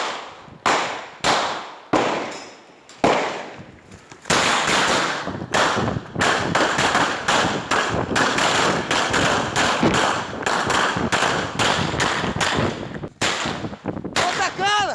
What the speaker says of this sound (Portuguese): trocam tiros no meio da rua